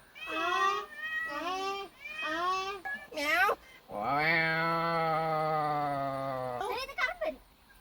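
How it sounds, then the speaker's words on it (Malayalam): A household pet cat meows close by: three short, rising calls in a row, then one long, drawn-out wail and a brief squeak at the end. "നമ്മളെ വീട്ടിൽ വളർത്തുന്ന പൂച്ച"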